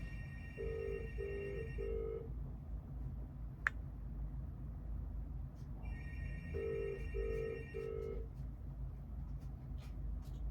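A telephone rings in two separate bursts of repeated electronic trills, each about three pulses long, over a steady low background rumble.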